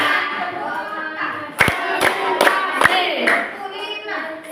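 A school class claps in a counted rhythmic game, sharp bursts of hand claps landing in separated groups while a teacher's voice and children's voices call out between them.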